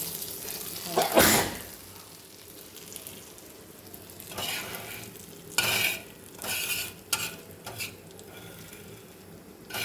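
Fish pieces frying in a pan with lemon, red chutney and mint, giving a steady soft sizzle with a few sharper stirring or scraping bursts, close and moderately loud, no talking.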